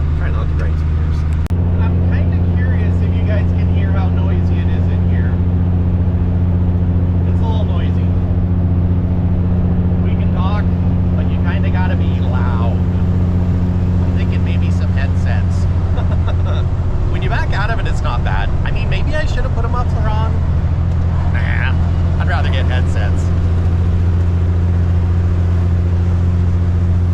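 Loud, steady engine drone and rumble fill the cab of a Kenworth K100E truck on the road, with layered low tones and intermittent rattles throughout, and someone talking over the noise.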